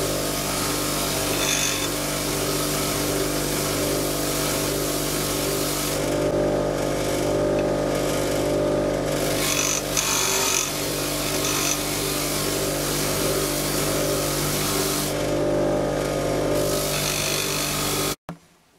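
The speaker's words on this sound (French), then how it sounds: "on nettoie les vis à la meule." An angle grinder cleaning bolts during a rear left wheel bearing replacement on a 2001 Ford Puma 1.7, a loud, continuous whine and grind that runs steadily for many seconds before cutting off abruptly.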